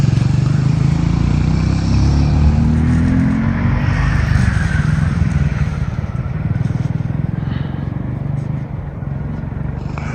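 Motorcycle laboring in first gear on a rough road under construction on the way from Leh to Nubra Valley, a loud, steady engine drone with wind buffeting, easing slightly toward the end.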